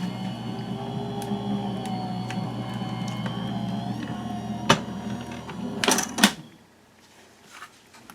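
Anna Griffin Empress die cutting machine running, a steady mechanical motor whir with small clicks and ticks, close and alone, ending in a couple of louder clunks as it stops.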